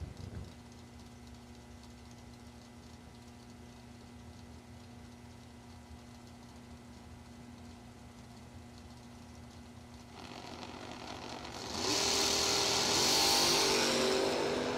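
A Chevy race car engine at a season kick-off event, idling with a steady drone for several seconds before building into a louder, harsher rev near the end, heard from a moderate distance.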